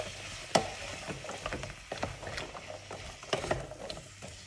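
Chopped pumpkin and potatoes are stirred in a pan for pasta with potatoes, pumpkin and provola: soft scraping and a couple of sharper spoon clinks over a faint, low sizzle, with no voices.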